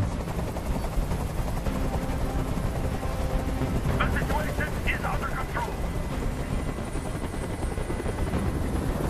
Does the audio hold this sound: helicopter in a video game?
yes